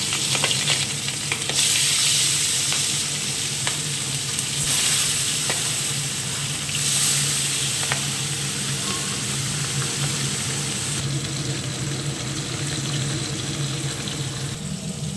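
Pabda fish fries in smoking-hot oil in a wok, making a loud, continuous crackling sizzle with occasional stirring knocks throughout, and no talk over it.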